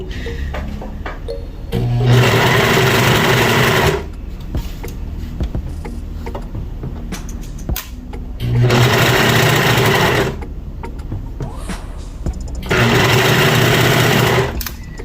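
A sewing machine stitches fabric in three loud, close bursts of rapid needle chatter, each about two seconds long, with quieter pauses in between while the fabric is adjusted.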